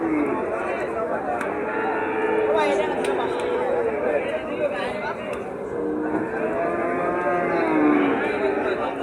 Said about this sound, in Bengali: এই দেখেন দর্শক, মোষের মতন ষাঁড় গরু, কি সুন্দর দেখুন